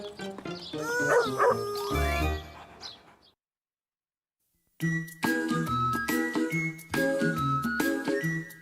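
A dog in a children's cartoon barks in short repeated bursts, with a jingling tinkle, a brief silent gap, then another run of quick barks.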